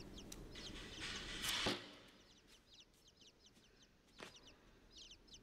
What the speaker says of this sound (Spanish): Oh, mirá, pajaritos.